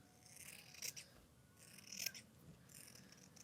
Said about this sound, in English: And then you want to cut that